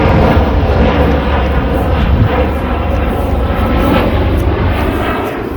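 An airliner passes low over rooftops near a Paris airport, its engine roar loud, broad and steady throughout before easing slightly at the end.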